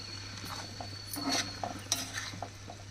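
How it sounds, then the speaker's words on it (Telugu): Quiet stirring of a coconut and cluster bean curry in a pan, soft scraping and light clinks of a spoon against metal, a few scattered strokes over a steady low background hum, no talking. "ఇప్పుడు బాగా కలిపేయాలండి"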